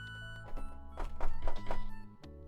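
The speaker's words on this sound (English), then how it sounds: "There's the sound of someone banging outside the video." Someone banging outside: a run of dull thumping knocks, a few quick hits bunched together over a couple of seconds, muffled and moderately loud over a steady low hum, with no talking.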